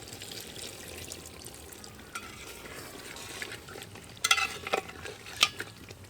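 Chicken for biryani simmers in a pot as a little water goes in, a soft bubbling hiss under a few spoon scrapes, then bright metallic clinks and taps against the pot rim.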